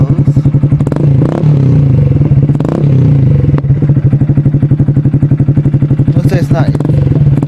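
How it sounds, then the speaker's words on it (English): A Honda Grom motorcycle fitted with an SC Project exhaust runs close and loud, throbbing in a rapid, even pulse with a few brief swells in engine speed and some clatter. "as soon as I rev the bike"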